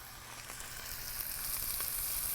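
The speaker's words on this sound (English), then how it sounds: "this is where you add another dollop of this yummy butter, because we're going to baste the fish" Haddock sizzles steadily in hot butter on the grill as it is basted, a close, constant frying hiss with faint crackles and no voices.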